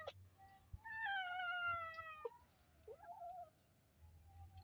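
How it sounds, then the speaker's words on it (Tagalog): A stray cat meows outdoors in a long, drawn-out harmonic call followed by shorter, softer mews, close and clear over low background rumble. "Stray cat yan, hindi yan sa amin."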